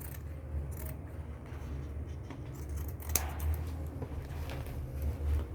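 Scissors snip through crochet work for a small clutch bag, giving close, soft cutting sounds over a low background rumble, with one sharper click midway.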